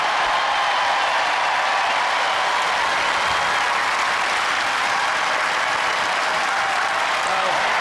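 A large television studio audience at a Robot Wars robot-combat show claps and cheers in steady, dense applause that holds at full volume for the whole stretch.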